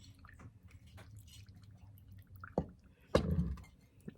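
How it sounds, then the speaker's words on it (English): Brine is poured over chicken in a container: soft drips and sloshing splashes, close and fairly quiet, with a louder splash burst near the end. "We're just gonna pour our brine"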